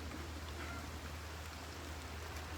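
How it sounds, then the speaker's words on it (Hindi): Steady, faint rushing of rain and wind, a continuous hiss with a low hum underneath and no voices. "फुल तेज़ हवा चल रही है इस टाइम और साथ ही साथ बारिश भी"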